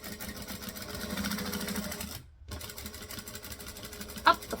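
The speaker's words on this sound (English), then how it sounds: "So I'm going to stitch, back stitch." Sewing machine back stitching on a handmade purse, a steady fast mechanical whir with a brief stop midway, close and moderately quiet, ending with a small click.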